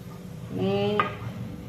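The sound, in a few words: farali cutlets frying in oil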